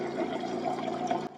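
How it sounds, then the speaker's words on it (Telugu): Water runs steadily into a water bottle being filled at home, a constant close-up gushing flow that stops abruptly near the end. "ఇంకా ఇక్కడైతే వాటర్ బాటిల్స్ ఫిల్ చేస్తున్నాను"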